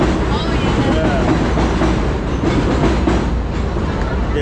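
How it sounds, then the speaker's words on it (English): A train rumbles past on elevated tracks in Woodside, Queens, a loud, steady roar with clattering wheels and faint squeals filling the whole stretch. "The train."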